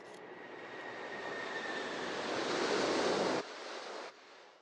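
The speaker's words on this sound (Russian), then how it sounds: "Тут я решил на заднем плане поставить работу кассового аппарата и звук взлетающего самолета." A steady broadband roar swells like a jet airplane taking off, layered in the background of a mixed music track alongside a cash register sound effect, growing louder before cutting down sharply near the end.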